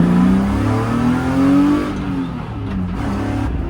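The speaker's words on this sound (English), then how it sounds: "Second gear pull, let's go." A supercar accelerates hard through a second-gear pull, its engine note rising steadily in pitch with a loud, close roar, then easing off slightly toward the end.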